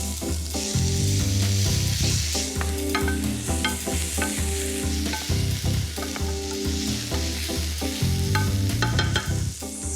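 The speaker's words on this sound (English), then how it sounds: "they gotta get sauteing up. Hit a hot pan with some olive oil." Food sautéing in a hot pan with olive oil for maple pulled pork gives a loud, continuous sizzle and frying crackle, with stirring clatter throughout and music playing underneath.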